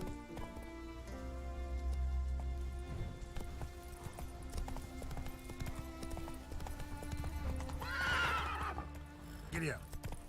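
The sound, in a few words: horse galloping in a video game (The Witcher 3)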